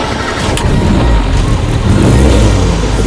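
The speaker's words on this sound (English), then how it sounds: "It's got a Bill Richards 1071 Cooper S race engine." A cafe racer motorcycle with a Bill Richards 1071 Cooper S historic racing engine, KAD quick shifter and straight-cut gearbox revs hard and close. It gives a loud, raw, continuous engine roar with no talking.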